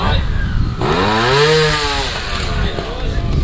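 A Beta trials motorcycle at The Trials Park in Suffolk rides a section on the overrun, its engine note rising and falling smoothly as it coasts, loud and close, with a voice speaking over it.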